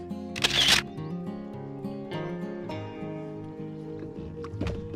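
A single camera shutter snaps for a selfie, taken from a kayak or canoe in the middle of a lake in Chain O Lakes State Park. It is a short, loud burst near the start, over a steady background of tonal music.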